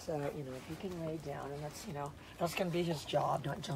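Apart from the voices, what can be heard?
None of the usual background noises is heard.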